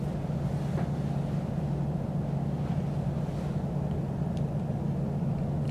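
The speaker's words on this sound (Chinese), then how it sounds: "然后我们进入驾驶舱，开启二号引擎。" Jet airliner's number two engine spools up in the Infinite Flight simulator, a steady loud low hum with a constant roar, no voices.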